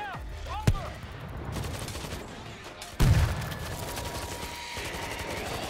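Gunfire in the World War Z video game, sharp gunshots and rapid bursts layered over game noise, with a loud blast near the start and another heavy volley midway, followed by continued shooting.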